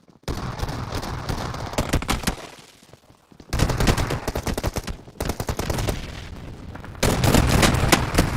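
Rapid bursts of gunfire in PUBG Mobile during a tournament fight, loud close volleys of repeated shots separated by brief pauses, with a near-silent gap in the middle and no talking over it.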